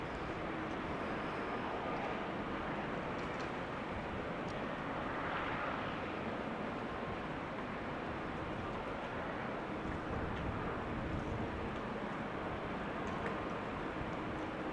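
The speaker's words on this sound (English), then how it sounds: "EasyJet just landed" An easyJet airliner landing at Amsterdam Schiphol produces a continuous, fairly faint and distant jet rumble and rush that stays even throughout without any speech.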